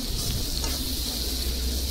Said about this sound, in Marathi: एकदम साधी सरळ आहे फोडणी